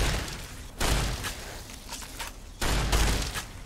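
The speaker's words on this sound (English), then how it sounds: "Right, shotgun time." Two loud, close shotgun blasts in Fallout New Vegas, each a heavy boom with a decaying tail, spaced about two seconds apart over a rumbling background.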